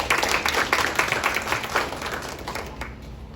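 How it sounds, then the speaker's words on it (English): An audience claps after a presentation, a close, crisp burst of many hands that stays steady for about three seconds and then thins out. "a round of applause for a great presentation"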